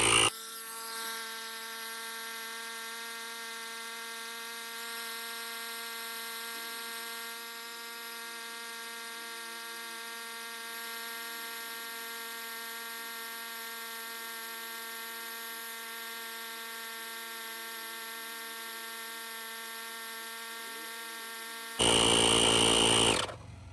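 A Hyper Tough digital tire inflator with auto shut-off pumps up a tire from about 25 to 30 psi. Its motor gives a steady, loud, whining drone for roughly twenty-two seconds, then the sound shifts abruptly near the end.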